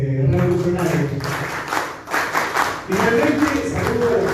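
Audience clapping at a Spanish-language political gathering, a dense burst of hand claps that stays loud and steady throughout, with voices mixed in underneath.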